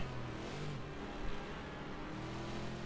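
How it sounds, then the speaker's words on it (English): A Fury race car's engine growls as it passes on the Silverstone circuit during a NAFFCAR race, a steady low rumble that sounds fairly distant and muffled throughout. "Such a satisfying car to hear the engine, isn't it? Just growls."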